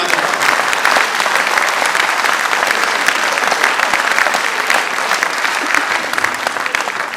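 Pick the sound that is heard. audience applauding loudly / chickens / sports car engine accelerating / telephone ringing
audience applauding loudly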